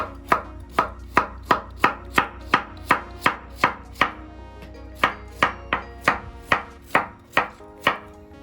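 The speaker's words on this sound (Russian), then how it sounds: "Морковку я буду нарезать тоже полуколечками." A knife chops a carrot into half rings sharply on a board in a quick, steady rhythm, about twenty crisp close-up strikes with a short pause midway, no voices.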